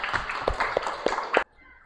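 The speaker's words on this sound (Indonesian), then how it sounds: "Mari kita tepuk tangan untuk kita semua." A classroom of students claps together at the teacher's prompt: a short burst of quick, uneven hand claps close by, with voices mixed in, stopping abruptly after about a second and a half.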